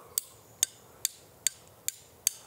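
A carving tool used as a small hammer taps a knife blank into a wooden handle, six sharp, evenly spaced knocks at a steady moderate pace against a quiet background.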